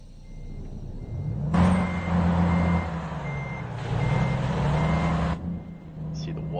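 Steady, evenly spaced reversing beeps from a truck backing up in American Truck Simulator, heard over a low engine rumble with a voice talking through part of it.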